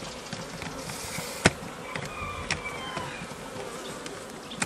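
Honeybees buzzing at an open hive while the nest is being expanded, a steady soft insect hum with faint drones passing and one sharp click near the middle.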